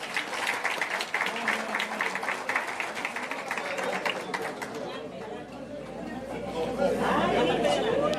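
Applause from the audience at a formal Dominican electoral board ceremony, loud clapping mixed with crowd chatter that gradually fades into murmuring voices and shuffling toward the end.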